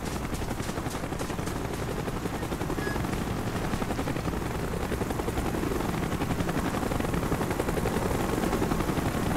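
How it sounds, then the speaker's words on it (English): Helicopter approaching in the PC shooter Call of Duty: Black Ops, a steady loud rotor drone filling the scene with faint gunfire crackling underneath and no talk. "Chopper's inbound. Move it."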